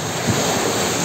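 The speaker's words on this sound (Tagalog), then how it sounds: "Ang ganda ng alon, no? Fresh from Pacific Ocean." Strong Pacific Ocean waves crash in a continuous, loud, broad roar of surf blended with wind noise, heard close up with no voices.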